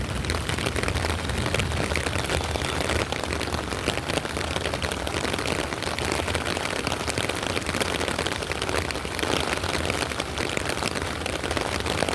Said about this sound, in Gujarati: તમે જોઈ શકો છો બહુ વરસાદ આવે છે